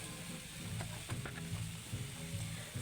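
Shrimp dropped into a hot frying pan sizzle steadily, with a few scraping clicks of a utensil stirring over the constant crackle.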